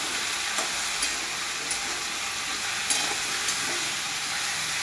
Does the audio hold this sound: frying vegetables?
yes